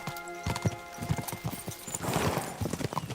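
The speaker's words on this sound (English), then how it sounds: "We should spur the horses on." Hooves clip-clop in a quick galloping rhythm as horses run in the medieval video game Kingdom Come: Deliverance II, close and steady with a brief whinny-like rise midway.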